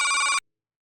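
A telephone bell rings loudly in one short burst, then cuts off abruptly into silence.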